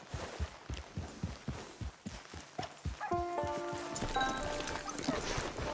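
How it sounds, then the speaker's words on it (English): Horse hooves clip-clopping in the Red Dead Online video game, a steady walking rhythm of close hoofbeats, followed by a whinny and rising background music. "Get your horse."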